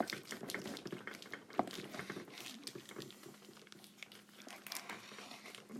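A knife cuts through a packaged pork roast still in its plastic bag. Close, quiet crinkling and tearing of plastic with soft scraping and rustling runs steadily throughout, with one sharper snap near the middle and no speech.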